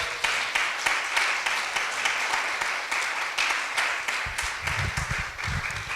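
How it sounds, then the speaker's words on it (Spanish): Congregation at a church service clapping together in a steady, rhythmic beat, a full and fairly loud wash of hands with some low voices or thuds rising near the end. "Denle un aplauso al Señor."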